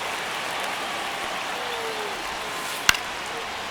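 Steady broad crowd murmur from a baseball stadium in MLB The Show 25, a one-run ninth-inning game, with a single sharp crack near the end over the continuous background roar.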